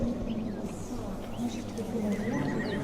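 A horse whinnies inside the Crusader Kings 2 strategy game, a fairly quiet neigh joined by clip-clop hooves and faint bird calls under a steady ambient bed.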